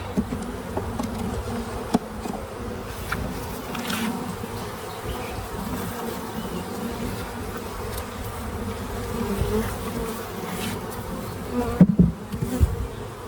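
A dense, steady hum of many honeybees buzzing in flight, close and continuous, with individual bees droning past.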